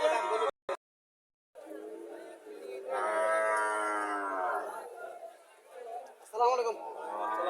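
A Sahiwal heifer calf at a cattle market gives a drawn-out moo, close and fairly loud, with people talking nearby before and after.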